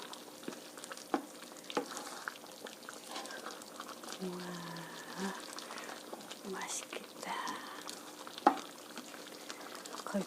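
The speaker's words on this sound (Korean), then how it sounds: "이렇게 해서 카레 소스가 걸쭉해질 때까지 끓여주세요" A pot of chicken curry with potatoes and meat simmers with the lid off, giving a low, steady bubbling with occasional stirring clinks and faint voices beneath it.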